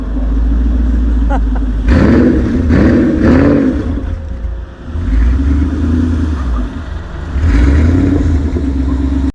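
A Ford Mustang Shelby GT500 or 2020 Mustang GT 5.0 with Performance Pack revs hard in repeated bursts, the exhaust roaring and burbling between pulls, loud and close with a voice briefly underneath.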